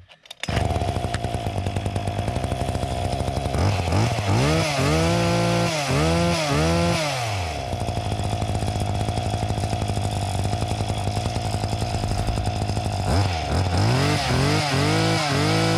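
Small petrol hedge trimmer engine running close up, holding a steady idle then revving hard several times in rising and falling bursts, loud and alone without talk.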